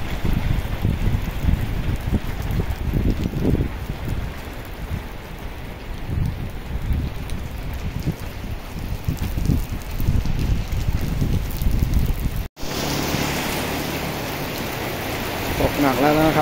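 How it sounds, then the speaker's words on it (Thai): Heavy evening rain near Min Buri, Bangkok pours steadily with broadband hiss and some wind buffeting the microphone, continuous throughout, briefly cut by a short dropout near the end. "ตกหนักแล้วนะครับตอนนี้ครับฝนนะครับ"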